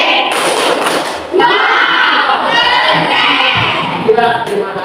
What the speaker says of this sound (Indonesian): Tepuk wow.